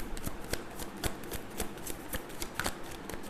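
Tarot cards are shuffled in a steady riffling stream of rapid papery flicks and soft slaps, close and fairly quiet, with no voices over them.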